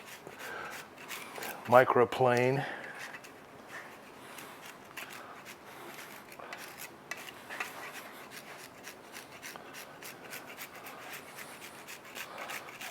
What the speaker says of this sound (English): my Parmigiana Reggiano and I grate that over the top. My microplane.